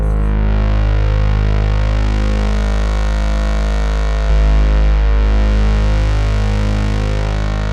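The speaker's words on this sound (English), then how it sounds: "just to put a bit of distortion on here" A synthesizer patch built on a Dave Smith Evolver plays through a distortion effect as one thick, buzzing, harmonically rich sustained drone. It is loud and continuous, with a slight shift in tone partway through, and no one speaks.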